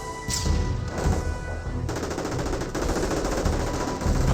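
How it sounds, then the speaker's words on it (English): A .30 cal machine gun rattles away in Company of Heroes, suppressing Panzer Grenadiers amid other battle gunfire, with rapid continuous bursts, loud and dense, overlapping for the whole stretch. "30 cal does get some good suppression there on the Panzer Grenadiers"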